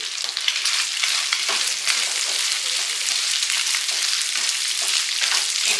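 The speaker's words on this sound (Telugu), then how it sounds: "మనం అన్నీ ఒకేసారి వేసి ఫ్రై చేస్తున్నాము." Beef and small cut onions fry together in a pan with a steady, dense, close sizzle that runs unbroken throughout, without any talking.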